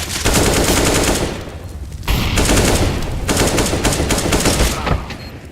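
Continuous automatic gunfire sprays in the CS:GO video game, two long, dense bursts of rapid shots with a brief break between them, loud and close.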